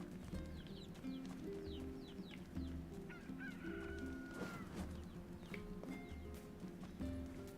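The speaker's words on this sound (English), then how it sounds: "Hello, chicken." Chickens cluck and squawk in a village in the NieR Replicant video game, with short, bright calls scattered over a steady, loud bed of ambient game music.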